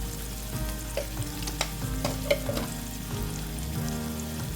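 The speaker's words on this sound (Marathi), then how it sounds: "आपला कांदा लवकर शिजावा म्हणून मी ह्यामध्ये थोडं मीठ घालत आहे." Onion sautéing in oil in a pan with salt added, a steady sizzle under repeated clinks and scrapes of a spoon stirring, close and continuous, with no speech.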